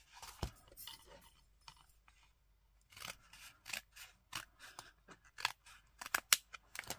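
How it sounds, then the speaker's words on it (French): Scissors snip paper at the bottom edge of a notepad in a scrapbooking craft, making a quiet close series of sharp, irregular cuts with short pauses between them. "Et je vais même lui couper un petit peu le bas."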